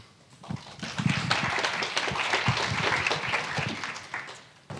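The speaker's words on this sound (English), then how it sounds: "Please give a round of applause for Simon and his talk" An audience at a cycling conference talk claps steadily for a few seconds, rising quickly, then tapering off toward the end, with no voices over the applause.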